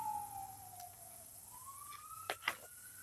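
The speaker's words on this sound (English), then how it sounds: "Sirens go by." Emergency sirens passing by outdoors: a faint wailing tone that sinks and then rises again, with a couple of brief sharp bursts near the end, heard alone at a distance.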